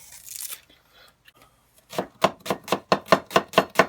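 A knife chops steadily through onions on a board, about eight crisp, evenly spaced cuts, preceded by a brief crinkle and faint handling noises.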